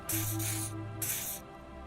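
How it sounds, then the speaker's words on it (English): A video game spray doused on the armpits comes as two bright hissing bursts of aerosol, the second after a short pause, over a low steady musical drone. "He douses you with the odd-smelling spray."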